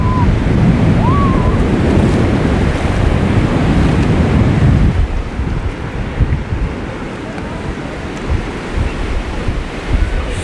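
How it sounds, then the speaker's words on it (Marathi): Sea waves on Nagaon beach roll in with a steady broad roar, heavy wind buffeting the microphone in the first half, then the surf washing on more softly and evenly. "शांत एकदम समुद्र आणि खूप काही लाटा लाटा आल्या लाटा आल्या"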